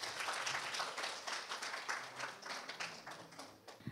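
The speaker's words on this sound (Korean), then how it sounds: "여러분 박수로 맞아주시길 바랍니다." Audience applause at a Korean ESG conference session as a keynote speaker takes the stage; steady, dense clapping from a crowd throughout, fading slightly toward the end with no talk.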